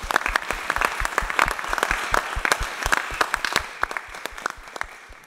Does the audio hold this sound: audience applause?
yes